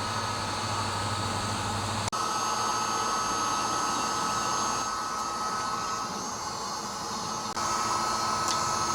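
A heat gun warms a new part on a Harley-Davidson Road Glide 3 trike, blowing as a continuous moderate hiss and hum with a couple of brief clicks or knocks partway through.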